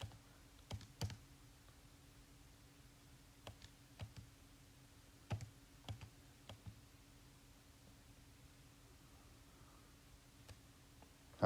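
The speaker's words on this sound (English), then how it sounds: "To get to the E button, you type second ln" Soft, sparse clicks of fingers pressing calculator buttons, a few isolated taps and short clusters over a faint steady hum in a quiet room.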